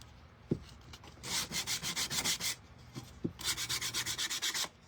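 Hand sanding along the edges of a wooden sign with 80 grit sandpaper, two quick runs of rhythmic rasping strokes, about a dozen each, close and clear with a couple of light knocks between.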